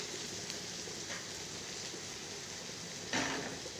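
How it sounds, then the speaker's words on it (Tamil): Masala sautéing in a pan gives a steady, soft sizzle throughout, with a few faint utensil scrapes and a brief louder stir near the end. "இப்போ இந்த மசாலாவை வதக்கியாச்சு"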